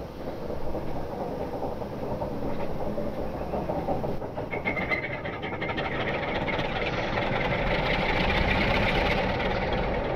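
Locomotive engines on a Romanian rail outing start up and run with a loud, steady diesel rumble and knocking, the train beginning to move as the noise builds and brightens toward the end.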